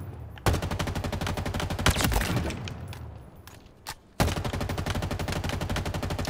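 Rapid automatic weapon fire in Halo Infinite's weapon drill, loud and continuous bursts with a short lull and a few single shots before the sustained firing resumes; no talking.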